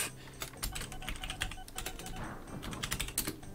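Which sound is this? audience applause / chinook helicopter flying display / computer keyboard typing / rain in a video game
computer keyboard typing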